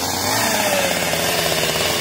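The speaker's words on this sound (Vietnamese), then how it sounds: "Giờ giật máy cưa cái cây này" A chainsaw runs steadily in the open at a fish-pond site in the Mekong Delta, ready to cut a tree. Its mid-pitched engine drones close and loud for the whole stretch, with no talk.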